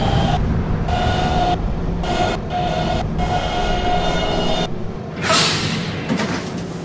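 An R152 subway train on the Kennedy-bound 7 local line in the Roblox game PTA Classic rumbles steadily along the track, loud and continuous, with a brief hiss of brakes or doors near the end.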